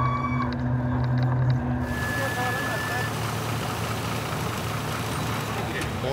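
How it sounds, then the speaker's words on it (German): A vehicle engine runs on a mountain highway in Nepal. A low rumble rises to a louder, rough steady roar, and speech-like tones are briefly audible at the start. "Motor."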